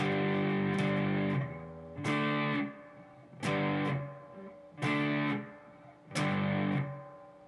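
A distorted electric guitar plays five heavy, slow chord blasts from the intro of a rock song, each ringing about a second before cutting off, with brief gaps between.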